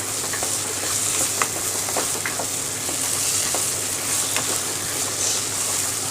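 Mango thokku with cane sugar cooks in hot oil, sizzling and bubbling loudly and steadily from start to finish, with light scraping stirs and soft pops heard close to the pan.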